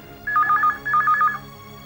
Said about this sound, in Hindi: प्रीति का फोन होगा